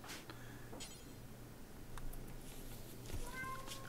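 A cat meowing in the colony-building video game RimWorld, a few faint short meows scattered over quiet low background hum, no speech on top.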